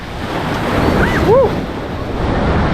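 Ocean surf breaking on Playa del Carmen beach on the Caribbean coast, a loud continuous roar of waves with wind buffeting the microphone, and faint distant chatter.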